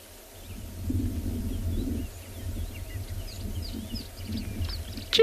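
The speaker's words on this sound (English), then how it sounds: "I can hear the different birds calling in the valley below." Birds call faintly from a valley in the South African savanna at sunset, scattered chirps and whistles at a distance over a low, steady rumble of wind or vehicle noise, with no talking.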